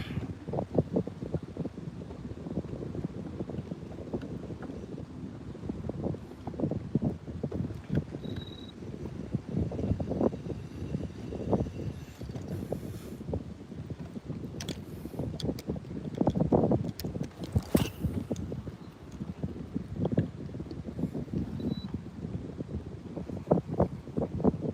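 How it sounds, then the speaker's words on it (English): Wind gusting outdoors near trees while bass fishing, a steady rough buffeting with bursts of microphone wind noise and rustling throughout, no talk. "It's kind of windy out here right now."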